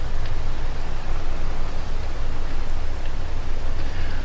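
Rain falling in Farming Simulator 22, a dense, even, loud wash of rain noise with a low rumble beneath, continuous throughout with no voices.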